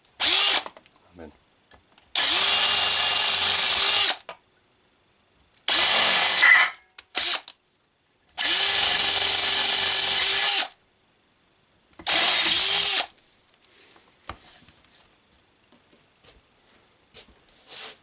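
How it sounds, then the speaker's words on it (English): A power drill bores holes in metal to be tapped for M8 threads on a Transportel electric transport moped, running in four loud sustained bursts of a few seconds each with quiet pauses between and faint handling noises after. "going to drill and tap those there."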